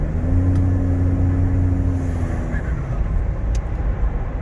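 Interior cabin sound of a 2015 Ford F-150 EcoBoost with an SPD catback exhaust under moderate throttle on a freeway, a steady low engine drone and road rumble filling the cab.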